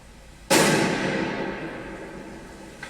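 A police grenade thrown toward a bunker bursts with one sudden loud blast. Its broad roar decays slowly over the next two seconds, and no other sound follows.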